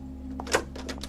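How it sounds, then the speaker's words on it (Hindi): A door opening, heard as a brief run of light mechanical clicks and taps with one sharper knock-like click in the middle, close and fairly quiet over a steady low hum. "कुछ सेकंड बाद दरवाजा खुला।"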